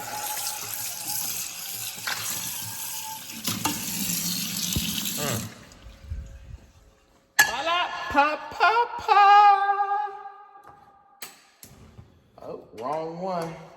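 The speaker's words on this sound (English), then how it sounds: "I'm gonna wash out this pan." Running tap water pours into a kitchen sink as a pan is rinsed out, a steady gush broken by clanks and shifts of the pan, with people talking over the later part.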